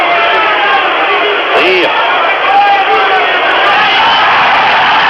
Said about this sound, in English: Crowd chanting Rocky, Rocky.